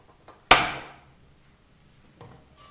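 A single sharp click-snap from a gas stove igniter in a home kitchen, loud and close, fades quickly. Faint small knocks follow.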